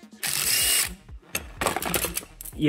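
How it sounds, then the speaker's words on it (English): Two bursts of a power drill whirring up close, the first about a second long, the second longer and rougher, with a short pause between. "you put the drill up against it"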